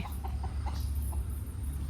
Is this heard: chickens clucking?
yes